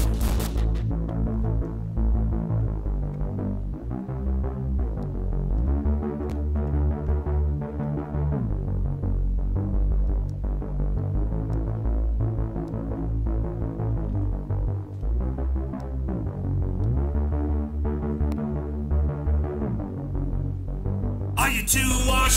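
Distorted opening of a song, thick droning guitar chords throbbing and sliding in pitch, sustained and loud for the whole stretch with no vocals.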